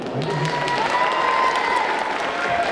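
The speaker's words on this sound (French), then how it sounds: "On peut applaudir l'accessoiriste aussi" Steady applause from an audience at a French fan convention contest, a dense continuous patter that holds at the same level throughout without a break.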